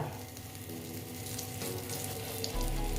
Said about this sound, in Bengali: দেখো তেলটা মোটামুটি গরম হয়ে এসছে এবার আমি একটা শুকনো লঙ্কা দিয়ে দিলাম আর দিচ্ছি একটা তেজপাতা